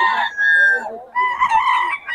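A rooster crows loudly and close by at a chicken market, with a second crowing burst following and clucking fowl around it.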